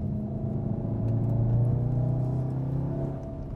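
Inside a 2015 Volkswagen Golf R on track, its four-cylinder TSI turbo engine hums with a low, droning note that swells slightly under load and then eases, heard close from the cabin.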